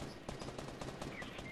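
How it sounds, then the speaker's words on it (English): Rapid automatic gunfire in the Fortnite video game, a dense burst of overlapping shots rattling steadily for about a second and a half at moderate loudness. "there's like three people shooting at me"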